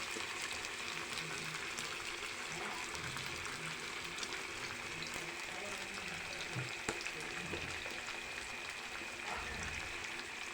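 Spice-coated fish sizzles in a small, crowded pan as a faint, steady frying hiss that runs without a break and carries only a few soft knocks.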